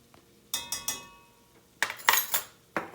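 Metal spoon clinking against a pan and dish while a heaping teaspoon of sugar goes into cooking vegetables, several sharp, bright taps in two clusters, close and crisp, no talking.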